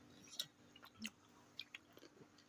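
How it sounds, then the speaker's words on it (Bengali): A person chews black grapes, producing a few soft, wet squishy bites and crunches close up at a low level, with no talking. "টপা টপ খাচ্ছে"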